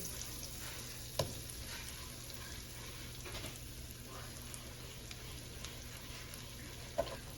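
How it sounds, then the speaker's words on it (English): Half a stick of butter melting and sizzling in a pan as it is moved around, a faint, steady crackle with a couple of brief knocks. "Throw in about a half a stick of butter. Move that around the pan."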